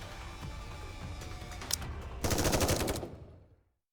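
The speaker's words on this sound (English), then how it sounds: "There are the sound of gunshots as Exia collapses" Gunfire from the video game Nikke: scattered shots give way to a dense, rapid machine-gun burst that cuts off abruptly, with no talking.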